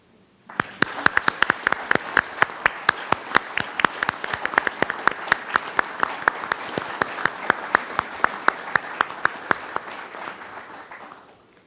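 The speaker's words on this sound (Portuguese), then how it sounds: "solicitando uma nova salva de palmas." Audience at an academy induction ceremony breaking into applause, a long burst of many hands clapping with sharp distinct claps near the listener, swelling quickly, holding steady for about ten seconds, then stopping.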